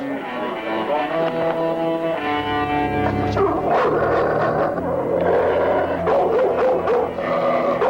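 Dogs bark and yip loudly in a noisy, distorted mix, following a stretch of harmonic voices, with barking continuing throughout.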